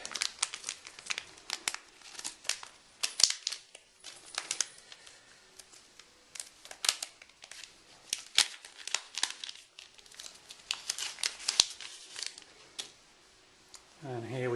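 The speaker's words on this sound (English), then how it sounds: "all you have to do is open the foil and remove the test strip" Foil pouch of a benzodiazepine drug test strip torn open and handled, a close, quiet series of crinkles and rustles going on throughout.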